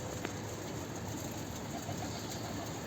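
A bird being fed bread coos faintly outdoors, its soft calls set in a steady, noisy ambient background, with nobody speaking.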